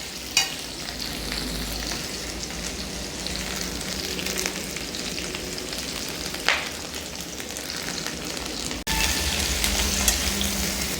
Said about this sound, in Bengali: একই সঙ্গে সবজিটাও ভাজা হবে আর পেঁয়াজটাও ভাজা হবে